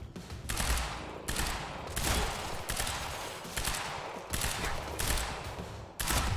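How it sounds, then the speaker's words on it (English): Gunfire in the video game Quantum Break: repeated bursts of shots at regular intervals, fairly loud and close, with a sustained rattling quality and no talking. "Those are all warning shots"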